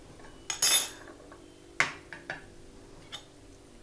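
Eggs are cracked into a bowl, with a few crisp taps and knocks spaced out over a few seconds, then a sloshing splash, close and clear in a quiet room.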